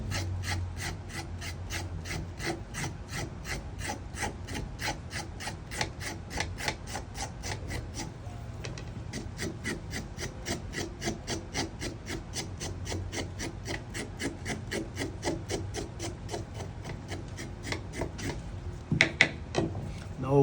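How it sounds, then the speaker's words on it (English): Vegetable skins scraped off with a blade while pickled veggies are prepped for a fried wild-caught snapper, steady rhythmic rasping strokes repeating quickly and close throughout, with a brief pause midway and a few louder knocks near the end. "And I also like to scrape the outer skin off,"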